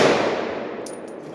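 A single loud report from a Palmetto AR-10 rifle fitted with a Sprinco orange extra-power buffer spring, held loosely, followed by a fading rattle of the action and a faint metallic ring.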